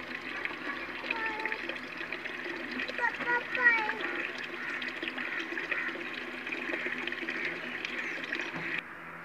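Water pours and splashes into a bucket being filled for a cow, a steady close running-water sound throughout while someone talks over it.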